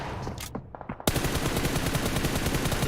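Rapid gunfire in the mobile battle-royale game PUBG Mobile during a competitive esports match, with a few sharp shots followed by a loud, sustained burst of fast repeated reports.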